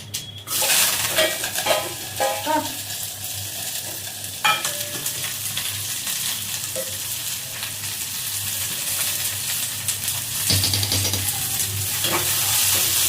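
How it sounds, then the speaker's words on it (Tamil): Steady crackling sizzle of curry leaves and shallots frying in hot oil, with occasional stirring scrapes, close and continuous throughout. "கருவேப்பிலை, சின்ன வெங்காயம் தாளிக்கிறது"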